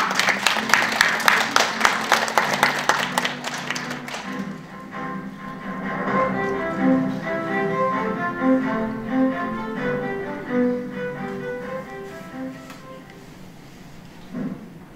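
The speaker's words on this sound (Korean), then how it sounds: "큰 박수 부탁드리겠습니다" An audience of parents at an education academy's admissions briefing in Korea claps loudly for about four seconds, a dense burst of applause that then stops and gives way to quieter music.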